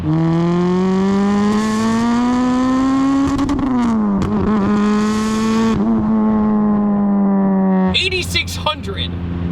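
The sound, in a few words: turbocharged Pontiac Vibe 2ZZ engine revving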